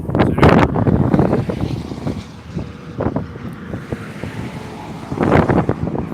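Strong wind gusts roar against the edge of a trailer beside I-70 in Colorado. Buffeting rumble from the wind fills the whole stretch, and the air swells and eases in waves.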